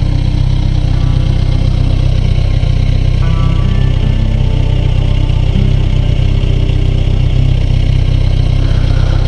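A 2019 Kawasaki Ninja 1000 motorcycle with a stock exhaust idles close by, a loud, steady low rumble that runs unbroken and even from start to finish, with no talk.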